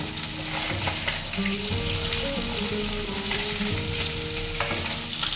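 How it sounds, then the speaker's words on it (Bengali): Dried tangra fish frying gently in oil, a continuous close sizzle with soft bubbling and stirring scrapes, and no one speaking. "একটু কড়া ভাজবো না, মানে শুকনো তো, একটু আলতো আলতো করে ভাজবো।"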